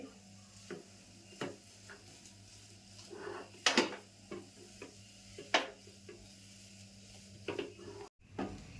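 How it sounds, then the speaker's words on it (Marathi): Semolina (rava) being stirred as it cooks in a pan, with faint scraping strokes and soft taps of a spoon at irregular intervals over a low background hum. "हे 2 ते 3 मिनटं मी असं ढवळून घेतलं आहे"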